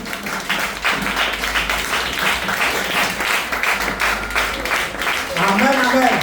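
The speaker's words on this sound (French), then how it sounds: "Lève-toi et acclame Jésus de Nazareth." Church congregation applauding and acclaiming during a service, a dense wash of clapping and voices that runs loud and steady throughout, with cheering swelling near the end.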